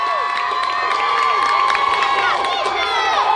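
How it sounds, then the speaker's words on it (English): Home crowd at an outdoor football game between the New England Bombers and Rhode Island Riptide in Jamaica Plain roaring and cheering loudly, with shouts and whoops rising from a sustained crowd din. "And there's the roar to the crowd."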